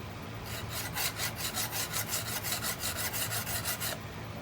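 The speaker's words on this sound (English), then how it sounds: "I'm finding the bevel and just rubbing on the bevel just a few times on my diamond card" A half-inch skew chisel bevel is rubbed on a diamond card in a rhythmic series of about a dozen close, raspy back-and-forth strokes, alone without talk.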